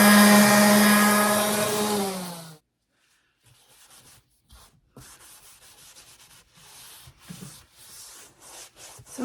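Sanding an antique kitchen cabinet door: a loud, steady power-sander whine runs for about two and a half seconds and then winds down, followed by softer, uneven scraping and rubbing strokes on the wood.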